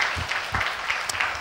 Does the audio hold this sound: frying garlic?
no